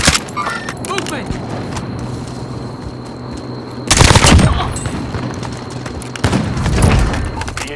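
Gunfire in Call of Duty: Modern Warfare, with loud automatic bursts and booming shots that break out suddenly over a constant battle rumble, while players talk over the fighting.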